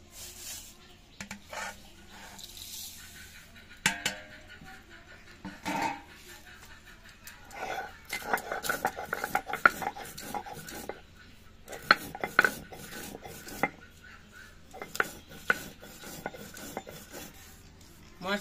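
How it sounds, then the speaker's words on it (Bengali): Spices being ground by hand for a village-style mango oil, heard as irregular rough rubbing, scraping and knocking strokes, quiet at first and then busier and louder in uneven bursts. "এই মশলাটা আমি বেটে নিই।"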